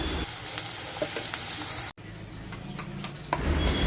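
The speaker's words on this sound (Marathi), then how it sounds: "कांदा चांगल्या क्वांटिटीमध्ये घ्यायचा आणि त्याला थोडं परतवून घ्यायचं" Chopped onion, ginger and green chili sauté in oil in a pan, a continuous close sizzle with occasional stirring scrapes and a brief break midway.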